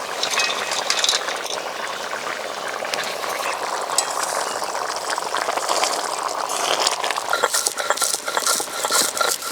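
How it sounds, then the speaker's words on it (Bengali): Fish-roe curry broth boiling hard in a pot, with dense, steady bubbling and crackle that holds at a close, even level throughout, no voices. "ঝোল ফুটে উঠেছে"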